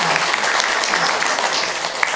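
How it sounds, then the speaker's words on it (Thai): Applause from a crowded room of massage-course participants, clapping for the volunteer mentors at a Thanom massage training session; dense, steady clapping carries through the whole stretch with faint voices mixed in. "ขอเสียงปรบมือให้กับพี่เล็้งด้วยค่ะ"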